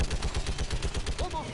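Rapid turret gunfire in the sci-fi shooter game Mass Effect 3, a steady run of quick bursts throughout, loud and close, with a brief voice sound near the end.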